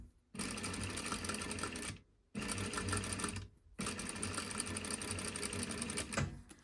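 A sewing machine stitches French bias binding with red thread, running in steady, fast, even bursts broken by two short stops.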